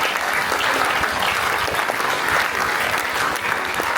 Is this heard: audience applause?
yes